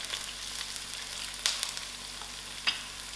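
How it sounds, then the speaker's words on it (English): Onions fry in a pan for a chicken and mushroom stir fry, giving a soft, steady sizzle with a few brief crackles and pops. "allow these onions to fry out till it's soft"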